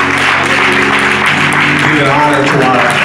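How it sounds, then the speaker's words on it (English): A church congregation claps hands in praise, a loud, dense wash of applause with voices speaking and calling out over it. "give the Lord a hand clap of praise"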